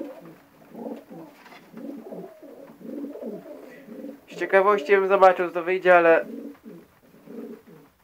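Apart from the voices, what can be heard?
pigeons cooing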